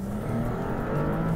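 A Maserati MC20 supercar engine built in Modena holds a steady, gruff mid-range drone with a slight rise in pitch, close and continuous with no talk.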